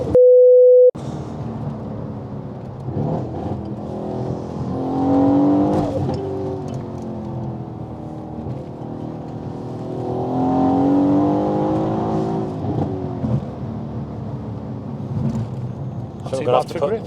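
A heavily modified Mercedes C63 AMG on semi-slick tyres in cold conditions accelerates hard. After a brief tone, the engine note swells in two rising pulls through the gears, heard from inside the car with occasional voices over it.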